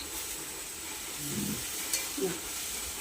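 Okra curry (bhindi chorchori) sizzles in a pan as a little water goes in and a spoon stirs it, steady frying hiss with a few scraping clinks, close and moderately loud, no talk.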